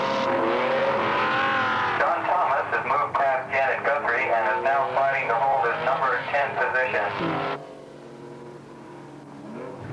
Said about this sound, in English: And now, coming into the pit, this is Swift's unscheduled pit stop.